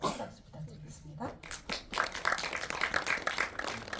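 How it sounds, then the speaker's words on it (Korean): Audience applause for a speaker at a December 2024 AI film festival at the Busan Cinema Center, a brief spoken introduction giving way to a swell of dense clapping from the crowd. "큰 박수 부탁드리겠습니다."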